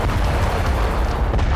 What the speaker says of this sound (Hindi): लगातार रॉकेट प्रहार से रूसी सेना ने इस इलाके के कोने कोने को दहला दिया है।